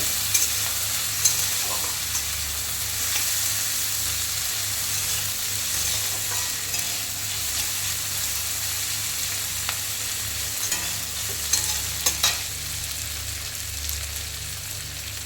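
Oil sizzles steadily in a pan as taro and fish cook, a constant hissing fry with occasional stirring clinks and scrapes close by.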